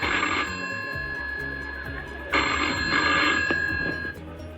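Telephone ringback tone on an outgoing call, heard as a repeating electronic ring in bursts over a low musical background with no speech.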